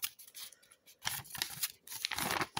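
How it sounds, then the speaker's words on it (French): Scissors snip through paper in a few quick bursts of crisp cutting and rustling, close by with short pauses between cuts. "ça découpe le papier"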